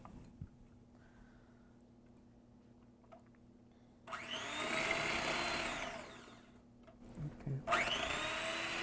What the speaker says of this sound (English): So you just want to start mixing that with an electric mixer until all the ingredients are incorporated.